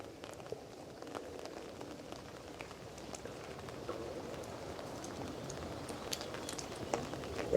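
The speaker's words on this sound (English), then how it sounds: "The rain is on." Steady rain patters on a surface at a wild campsite in Wales, a dense continuous wash of small drops, with faint bird calls scattered in the background.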